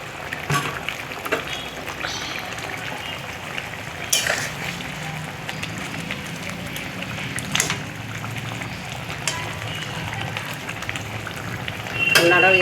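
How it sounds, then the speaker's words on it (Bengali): Fried prawns dropped into a pan of pointed gourd set off a steady crackling sizzle, with sharper pops and spits scattered throughout and a louder burst near the end, close and continuous. "এবার আমি ভেজে রাখা চিংড়ি মাছগুলো দিয়ে দিচ্ছি।"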